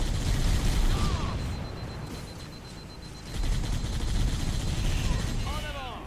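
Gunfire in the video game Halo, rapid bursts and booms over a loud, busy game soundscape, with a voice talking over the shooting for much of it.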